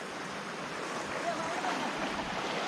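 A small waterfall pours steadily in the distance, a continuous broadband rush of falling water that holds level without pause, fairly faint and blended with outdoor air.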